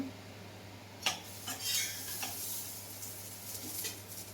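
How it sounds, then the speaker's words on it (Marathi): Roasted corn being sautéed in a pan, with quiet scraping and clinking of a spoon against metal over a low steady hum, in a few irregular strokes. "हे छान परतून घ्या"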